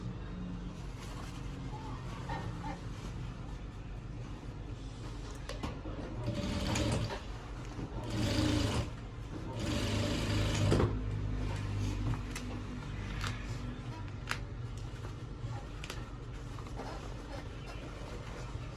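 A sewing machine top-stitches a chest pocket on a senator-style shirt, a steady close mechanical whir with louder bursts partway through and no talk.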